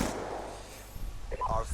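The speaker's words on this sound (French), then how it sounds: "J'entends des coups de feu." Gunfire in a video game sounds as a few muffled, booming bursts in the middle distance, blended into a noisy game background.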